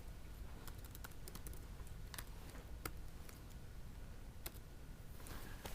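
Fingers tap out quick, irregular bursts of keystrokes on a computer keyboard, crisp clicks close up over a quiet room hiss, with brief pauses between runs.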